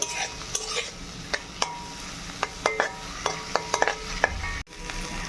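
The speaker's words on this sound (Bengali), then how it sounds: "এটাও হালকা করে ভেজে নেব, ডাল সমেত লাউ ভালো করে একটু কষিয়ে নিতে হবে।" Bottle gourd and lentils being stirred and fried in a pan, with a steady sizzle under repeated sharp scrapes and clinks of a spoon against the pan, close and fairly loud, no talking.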